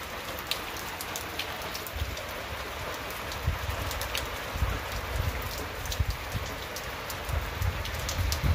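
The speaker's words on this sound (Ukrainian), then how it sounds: "Сьогодні 6 градусів тепла, йде дощ." Steady spring rain at six degrees in central Ukraine falls and patters on surfaces nearby, with scattered drips landing close throughout, no voices.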